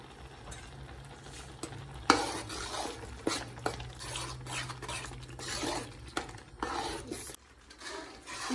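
Masala roasting in a little oil and rendered meat fat in a pan, with a spoon stirring and scraping in irregular knocks over a low frying hiss, close by and fairly quiet, with no talking.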